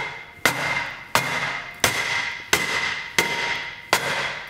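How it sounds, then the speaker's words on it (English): Heavy hammer blows strike the face of a stuck brake rotor on a car hub, six loud metallic raps evenly spaced about two-thirds of a second apart, each ringing briefly before the next. "Notice sometimes it takes quite a few raps of the hammer to get it to break loose."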